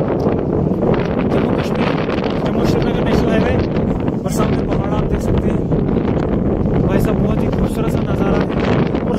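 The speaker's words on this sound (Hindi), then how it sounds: "हवा इतनी ज़्यादा तेज़ है ना, हाथ सुन पड़ गई" Strong wind buffets the microphone on a moving train heading through the Pir Panjal range toward Kashmir near Banihal and Qazigund, a steady loud roar with rumbling rushes and no breaks, while a voice talks faintly underneath.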